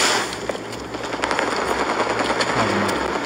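Gunfire from a sniper rifle in a video game streamed through Xbox Cloud Gaming, heard as steady loud shooting and a busy game soundscape running through the whole moment.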